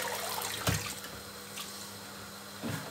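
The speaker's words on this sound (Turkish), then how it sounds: "Suyunu süzüyorum." Water being drained off vine leaves while preparing stuffed grape leaves (yaprak sarma) in a kitchen, a steady close splashing trickle with a couple of brief louder pours.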